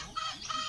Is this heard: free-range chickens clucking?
yes